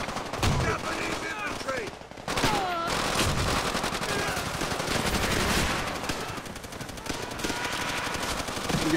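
Loud, sustained bursts of rifle and machine-gun fire crackle through a battle scene in Call of Duty: World at War, nearly unbroken, with shouted voices mixed in.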